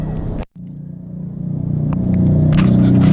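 A Honda Grom motorcycle at a track day approaches with a rumbling engine that grows steadily louder and rougher over a few seconds, preceded by a brief sharp clunk and a momentary dropout.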